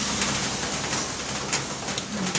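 Rain falls steadily on a rainy afternoon as a green star fruit salad is prepared for a snack, heard as a continuous, fairly loud broadband hiss with a few faint higher ticks scattered through it.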